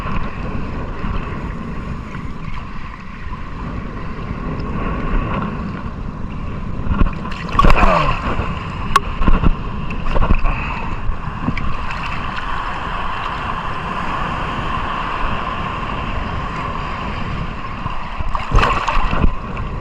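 Strong wind roars across the microphone on open water, with a boat's steady engine hum and occasional gusts and splashes, no voices.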